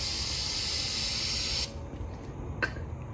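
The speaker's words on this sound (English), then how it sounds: "I'm gonna spray mine on the rag because I don't want to get it on our rim" Brake cleaner sprayed from an aerosol can onto a rag while cleaning a motorcycle rim, a loud steady hiss for about a second and a half that cuts off abruptly, followed by quiet handling and one short sharp knock.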